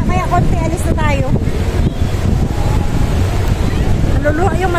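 Strong sea wind blows across a boat, roaring and buffeting the microphone loudly and continuously over engine drone and water, with a voice talking beneath it.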